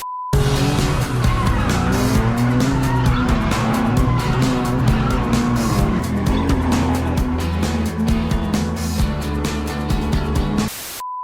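Drift car tires squeal loudly and continuously at a drift demo on a wide-entry track layout, the engine roaring under the screech throughout, close and sustained before cutting off abruptly.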